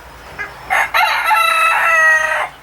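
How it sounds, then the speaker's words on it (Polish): Barnacle geese roaming freely around a farmyard give a short call, a few brief honks and then one longer, strained cry, close and loud against a quiet background. "gąski sobie spacerują po całym podwórku"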